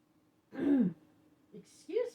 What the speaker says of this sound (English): I needed to do a big cough.